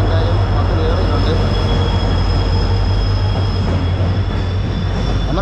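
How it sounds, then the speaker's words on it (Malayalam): A diesel-engine passenger train pulls into a station, its heavy continuous rumble and low engine drone filling the scene loudly and close, with a faint high whine and muffled voices of people nearby underneath. "ഈ വരുന്ന ട്രെയിനിലാണ് നമുക്ക് പോകുന്നത്. അപ്പോൾ ഡീസൽ എഞ്ചിനാണ്,"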